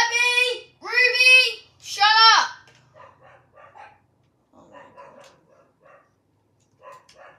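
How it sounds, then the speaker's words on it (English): Pet dogs bark in three loud, close bursts, then fall to faint scattered yips and whimpers. "My dogs go mental, guys."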